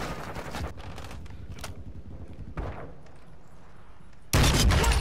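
Rapid gunfire bursts in the video game Call of Duty, a stuttering volley of shots early on, then a lull with a single thump, ending in a sudden loud sustained burst, with no talking.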